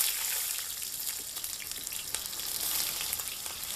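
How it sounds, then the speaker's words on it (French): Onions, aubergine and other ingredients sizzle steadily in a hot pan for a Congolese chicken in white sauce, a dense continuous crackle with occasional sharper pops and faint stirring clinks, no voices. "Je vais griller aussi mes ingrédients."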